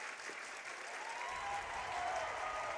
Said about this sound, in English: The Valmeyer crowd been quiet most of this game. They are in it now.